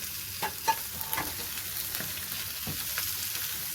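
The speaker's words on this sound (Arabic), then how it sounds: "بنزل بالكبده والقوانص اللي انا شوحتهم في الاول" Chicken liver and gizzards sautéed with onions in a pan give a soft, steady frying sizzle, with a few light scraping clicks from stirring.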